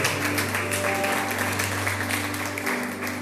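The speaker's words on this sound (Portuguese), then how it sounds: "As palmas louvam ao Senhor." Church congregation clapping in praise during a family worship service, a dense continuous clatter of hands over a low steady hum, even in loudness throughout.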